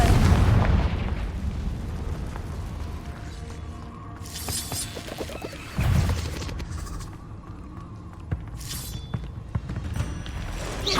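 A Confringo fire spell in the video game Hogwarts Legacy sets off loud booming explosions and shattering bursts, with layered crashes and pops rolling on over a dense, continuous game soundscape.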